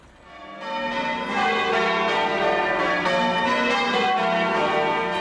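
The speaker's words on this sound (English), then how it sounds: "bells rang out across Britain to signal the end of the war" Church bells ring out across Britain to mark the end of the war, a dense, sustained peal of many overlapping bell strikes swelling in after a quiet start and continuing loudly and richly.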